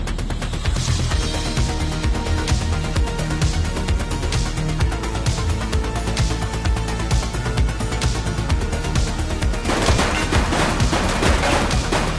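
Rapid bursts of video game gunfire from a police shootout crackle continuously over a dense, loud bed of action sound and music, with no pause across the stretch.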